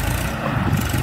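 A Massey Ferguson 1035 tractor's 39 hp diesel engine runs close and loud in a steady rumble, briefly caught working on sandy farm soil.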